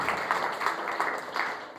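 A church congregation applauding during a sermon, a steady wash of many hands clapping at a moderate distance, continuous and fairly even for a brief stretch with no voices over it.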